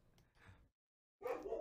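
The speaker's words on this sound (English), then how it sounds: "Oh, God, my dog. Stop it." A pet dog barks twice at moderate distance, a softer yelp followed by a louder, fuller bark after a brief silence, heard indoors with no talk over it.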